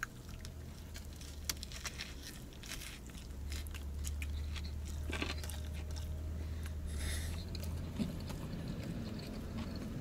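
Faint, close crunching bites and chewing on a Firehouse Subs sandwich with crispy bacon and pickles, with soft irregular crackles against a quiet background.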